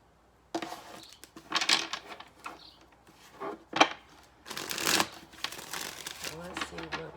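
Tarot cards shuffled by hand in short, irregular riffling and crinkling bursts close to the microphone, with pauses between them and a voice speaking alongside.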